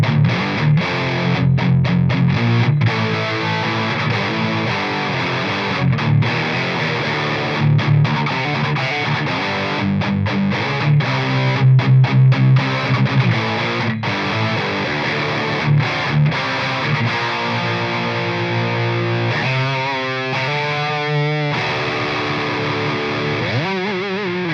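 A Gibson Les Paul Double Trouble electric guitar plays heavily distorted chords and riffs through effects, with choppy stops and sustained notes, closing with a few wobbling, modulated tones.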